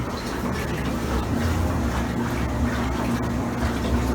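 Water sloshes steadily inside a Kenmore Laundry Center washing machine running a regular cycle with a load of clothes, a continuous, even churning wash with a low hum underneath and no pauses.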